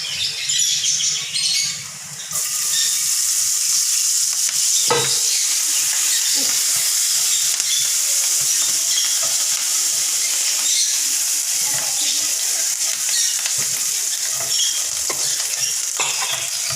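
Green chillies frying in oil in a pan over a low flame, with a light clatter at first, then a loud, steady hiss and crackle that carries on without a break.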